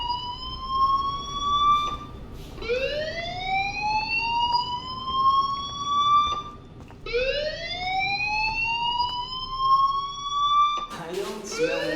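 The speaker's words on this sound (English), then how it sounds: "Hey, do you hear that fire alarm?" Fire alarm siren in the video game Life Is Strange, a rising wail that sweeps upward and holds, repeating in long cycles. It is loud and continuous, with a brief clattering burst near the end.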